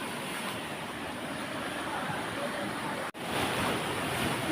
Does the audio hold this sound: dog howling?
no